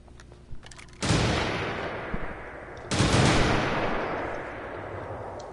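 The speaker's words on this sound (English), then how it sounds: "What an explosion." Two loud, booming video game explosions a couple of seconds apart, each followed by a long rumbling roar and crackle that slowly dies away.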